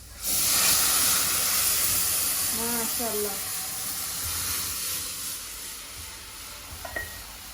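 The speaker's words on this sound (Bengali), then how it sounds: "এখন বাগার দিলাইব" Hot spice tempering (baghar) poured into lentil dal, a loud burst of sizzling hiss that slowly settles into a steady simmering crackle, with a brief voice in the middle.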